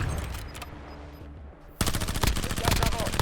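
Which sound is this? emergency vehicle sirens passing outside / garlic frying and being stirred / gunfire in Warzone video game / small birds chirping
gunfire in Warzone video game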